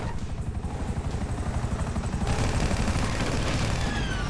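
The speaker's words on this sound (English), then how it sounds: "Great! Another chopper!" A helicopter in the video game Grand Theft Auto V gives a steady, close rotor thump that builds slightly louder, with dense low chopping and a broad engine roar throughout.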